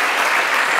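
Audience applause at a literary awards ceremony, a dense, steady wash of many hands clapping together, loud and continuous with no voices over it.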